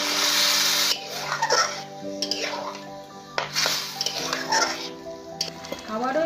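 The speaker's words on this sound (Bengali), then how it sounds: "এরপর ঢাকনা খুলে একটু জল দিয়ে দেবো" Water splashed into a pan of simmering bean seeds once the lid comes off, producing a loud hissing sizzle that breaks into bursts with metallic clinks of the pan and utensils.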